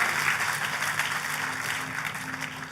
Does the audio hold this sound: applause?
yes